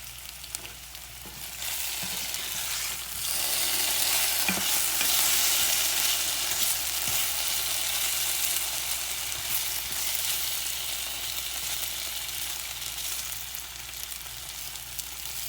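Potatoes fry in a hot pan, a loud continuous sizzle that grows stronger after the first couple of seconds and stays steady, with a few soft stirring scrapes.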